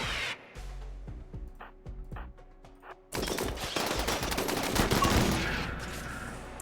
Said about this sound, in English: They're gonna shoot Tony, man